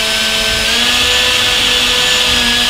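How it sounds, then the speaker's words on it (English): A power drill pre-drills holes in wooden toboggan boards, a loud, close, steady high-pitched whine with grinding texture running continuously, no talking. "So now what we're going to do is pre-drill these."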